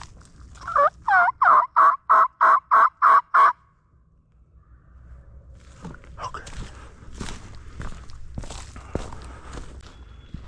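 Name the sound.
wild turkeys gobbling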